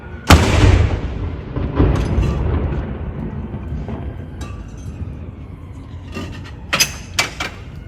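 A Royal Artillery gun salute fires at Edinburgh Castle: one loud booming shot near the start rolls off into a long echoing decay over the city, with sharp crowd noises and faint commands later.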